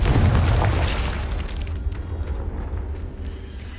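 Confringo fire spell blasting in Hogwarts Legacy, a loud booming explosion at the start that rolls into a rumbling, crackling decay over several seconds.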